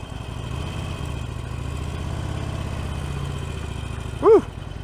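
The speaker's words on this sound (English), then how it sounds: "this first ride on a 2017 Harley Sportster 1200 Custom" A 2017 Harley Sportster 1200 Custom motorcycle engine idles with a low, steady throbbing rumble close by, ending in a brief loud rising tonal chirp near the end.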